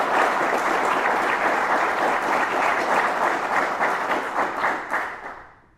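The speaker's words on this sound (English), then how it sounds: "how about another round of applause for your outstanding cadre that are joining us here today?" Sustained, dense applause from a large audience at a Border Patrol Academy graduation ceremony, steady for about five seconds before fading out.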